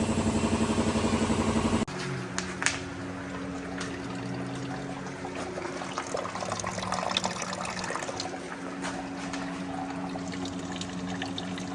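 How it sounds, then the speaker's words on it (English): Coolant draining from the radiator of a Subaru GC8 2.5RS into a bucket, a continuous close pouring and splashing of liquid with a steady trickling wash throughout. "Drain it in the bucket"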